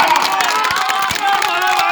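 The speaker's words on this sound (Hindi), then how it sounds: "सर आप विधानसभा जा चुके हो, उसके लिए जोरदार तालियां।" Loud applause and cheering from a meeting audience, with a dense crowd roar of voices and shouts over claps, close and sustained throughout.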